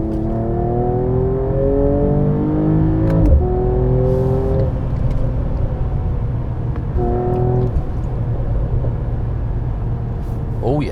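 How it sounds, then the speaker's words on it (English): A 2019 Mercedes-AMG CLS 53 pulls through its gears on the move, a loud exhaust note that rises in pitch, drops at each shift and climbs again. "Mercedes do know their exhausts, and this one sounds more like a WRC car than a limo."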